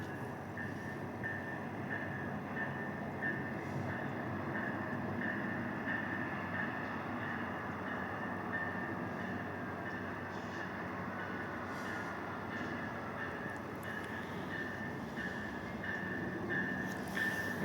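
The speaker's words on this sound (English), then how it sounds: "MP40PH engine, we have MP40 engine." A GO Transit MP40PH diesel locomotive, number 602, pulls ten cars into Agincourt GO Station with a steady, loud rumble and a sustained tonal whine that holds unbroken throughout.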